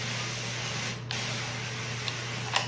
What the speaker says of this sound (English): spray some of the areas and just let it sit